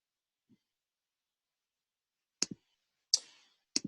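Computer mouse clicks in a quiet room: a faint tap, then a crisp double click, a single click with a short tail, and another double click, close and dry with silence between.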